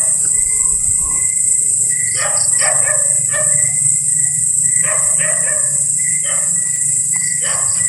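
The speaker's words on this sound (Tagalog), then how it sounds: "Ang ingay po ng aso." Several dogs bark in irregular bursts at a moderate distance over a loud, constant chorus of crickets.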